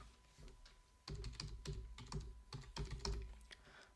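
Dates are typed on a computer keyboard in quick, close clicking keystrokes that come in short irregular bursts, with no voice over them.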